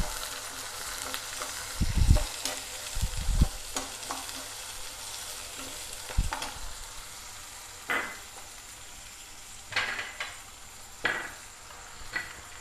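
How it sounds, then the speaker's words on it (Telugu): Chopped onions fry with cumin and salt in a pan, a steady sizzle under repeated scraping and stirring strokes, with louder clatters of the spoon against the pan at irregular intervals. "ఇవి ఉల్లిగడ్డలు బాగా వేగాలి కదా"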